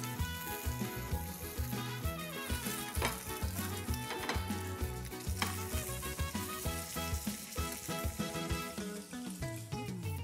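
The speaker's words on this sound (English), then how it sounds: "nicely pick this up very carefully and transfer this in oil" Chicken keema baida roti fries in hot oil, Mumbai street-food style, giving a continuous bubbling sizzle under rhythmic background music throughout.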